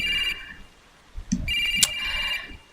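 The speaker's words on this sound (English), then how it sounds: "I couldn't bear to ignore the ringing, which showed no signs of stopping, so I approached the public phone." A public phone rings in the Japanese horror game Shin Hayarigami 2, a close electronic trill that sounds in short bursts separated by pauses, with brief soft thuds between the rings.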